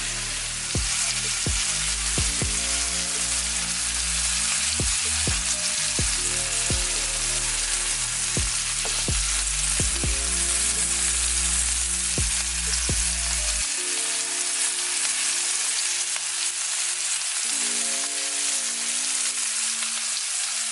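Steaks searing in a pan for a Father's Day dinner, a steady loud sizzle with sharp crackles and pops throughout, the sizzle thinning in the last few seconds; no one speaks.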